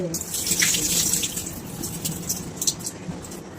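Tap water runs and splashes steadily into a sink while raw chicken is rinsed, close and fairly loud throughout.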